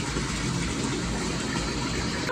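Calgon being poured into a filling bathtub, a steady, loud rush of running water that continues without a break.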